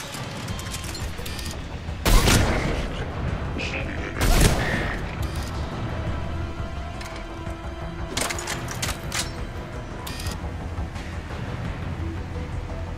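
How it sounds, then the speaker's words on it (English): Sniper rifle fire in the video game Mass Effect 3: two heavy, booming shots roughly two seconds apart, each with a sharp crack and a rumbling tail over steady ambient game noise. "Sniper rifle."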